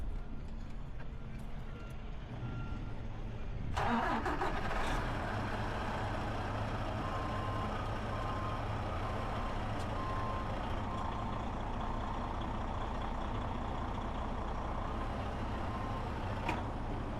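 A truck being inspected for air brakes starts up and then idles while backing slightly, its engine rumble steady and loud with faint intermittent reversing beeps over it and no clear speech.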